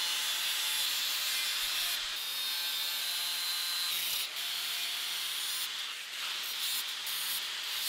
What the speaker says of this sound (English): I cut the steel sheet to size and grinded the surface.